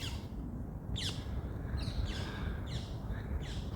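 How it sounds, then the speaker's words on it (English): A gang of feral parrots in Liverpool, beside the River Mersey, gives several harsh squawks at intervals over a steady outdoor background rumble, sounding fairly distant. "They're the parrots. The parrots of Liverpool."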